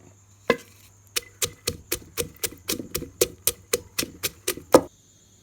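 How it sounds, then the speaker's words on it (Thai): Rhythmic pounding of a pestle in a mortar crushing shallots, garlic and coriander root, about fifteen sharp, evenly spaced thuds, close and steady, with no talking. "ตำหอมกระเทียม รากผักชีให้ละเอียด"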